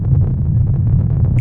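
Underwater sound of a lake captured by a phone on a raft: a loud, steady low rumble with bubbly, murmuring texture and a brief faint tone near the end.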